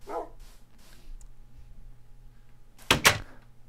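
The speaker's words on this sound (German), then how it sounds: "Ein Hund ist gestorben, als der Creeper explodiert ist." A dog in Minecraft dies after a creeper explosion, giving a few short faint yelps early on, then two loud sharp bursts close together near the end.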